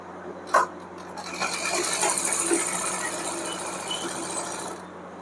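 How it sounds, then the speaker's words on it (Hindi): A sewing machine stitches the seat seam of ladies' pants, running close by as a steady, continuous mechanical hum with no talking. "तो मैं यहाँ पर सबसे पहले आसन की सिलाई लगा लेती हूँ।"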